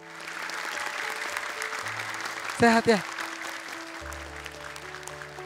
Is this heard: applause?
yes